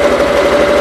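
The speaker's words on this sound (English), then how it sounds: "Always a beautiful running tractor" A tractor engine runs steadily at close range, a constant mechanical drone with a strong steady tone and even vibration throughout, no voices over it.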